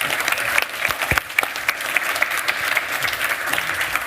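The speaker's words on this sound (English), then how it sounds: "Round of applause, everyone." An audience at the Codegarden 2022 developer conference applauds as people are invited up on stage. Lively clapping carries on throughout, with a few sharp nearby claps standing out over the wider crowd.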